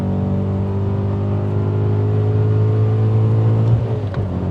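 Supercharged 630 bhp BMW E39 M5 with a manual gearbox accelerating hard, a loud steady engine drone holding close and continuous throughout, with a brief rough flutter near the end.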